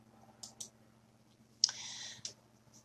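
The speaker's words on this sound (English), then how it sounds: "Again, I'm going to use my trick of right-clicking," Computer mouse clicks come in a quick pair, then a single sharper click followed by a short burst of rattling clicks, close and crisp over a quiet steady hum, with no talking.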